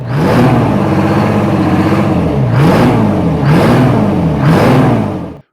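A big Detroit Diesel 12V71 engine revs repeatedly in loud, steady surges, rising and falling in pitch every second or so, with no voices.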